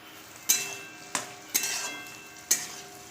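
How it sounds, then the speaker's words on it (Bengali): Capsicum frying in a pan for paneer curry, a low sizzle broken by four sharp scraping stir strokes of a spatula against the pan. "এরপর আমি ক্যাপসিকামটাও ভেজে নেব ওর মধ্যে দিয়ে"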